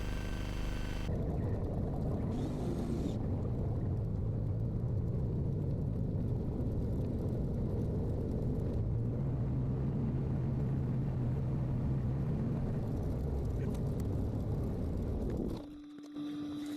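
A Beechcraft Bonanza V35 light aircraft backtracks along runway 11 at St George, Australia, toward general aviation parking, its propeller engine a steady, close droning rumble that runs unbroken almost to the end, then briefly dips.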